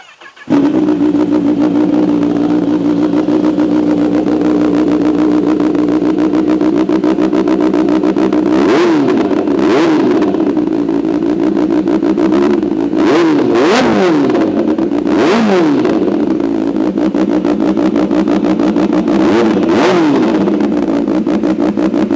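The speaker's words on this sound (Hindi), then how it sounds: "बाकी एरो एग्जॉस्ट की आवाज़ सुनना चाहेंगे? Let's fire this thing up." A Kawasaki ZX10R BS6 superbike fitted with an Arrow exhaust idles loudly and close, then is blipped through a series of sharp throttle revs that rise and fall repeatedly over the steady idle.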